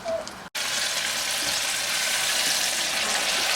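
A batch of walleye fillets frying in a pan gives a steady, loud, close sizzle with a dense hiss, broken once by a brief silent gap near the start.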